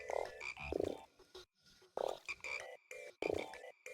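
Frogs croak in the video game Indika, giving repeated loud, resonant croaks in bursts over a rhythmic music-like background, with no talking.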